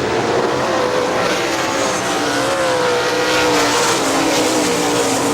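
AVSS 410 sprint cars race at Hartford Speedway Park in Michigan. Several engines roar loud and continuous as a pack, with rising and falling pitch as the cars pass close by, and no one speaks over the din.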